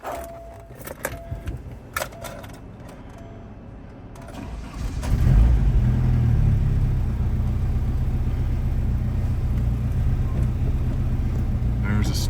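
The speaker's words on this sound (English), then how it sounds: "There's a start for you." A 1990 Saab 900 SPG is started with a key: some clicks and rustling, then the engine cranks and catches, settling into a steady, close idle that runs to the end.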